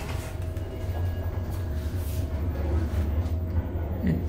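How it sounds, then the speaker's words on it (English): A Schindler traction elevator car with a 3,500-pound capacity runs between floors, giving a steady low rumble and hum throughout, moderately loud and continuous with no clear talking. "Nice elevator."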